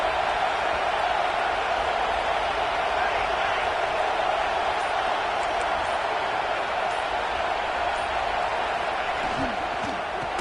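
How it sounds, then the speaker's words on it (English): A stadium crowd at a football game roars steadily and without a break before a second-down play. The dense crowd noise runs underneath an announcer's commentary. "this crowd is turning it up a notch"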